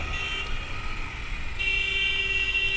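Car horns honking in busy road traffic, a steady high-pitched toot layered over rumbling engine and road noise, moderately loud and close.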